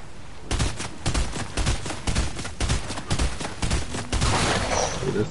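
Rapid bursts of video game gunfire crackle in uneven volleys, loud and close, with sharp repeated shots packed tightly across the stretch and no voices over them.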